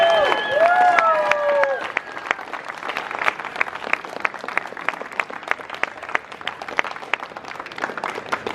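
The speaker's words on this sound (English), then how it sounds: "One more gigantic, huge Blade West round of applause for our top 3 flippers of the West Coast Flipping" A crowd at a balisong flipping championship applauds and cheers the top finishers, with voices and whoops at first, then thinning into scattered individual claps.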